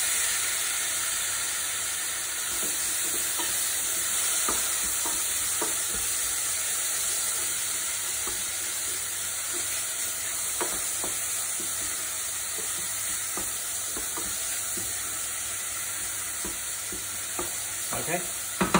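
Frozen corn and peas stir-frying in a hot pan for a vegetable biryani, a continuous loud sizzle with scattered scraping stirs and taps of the utensil.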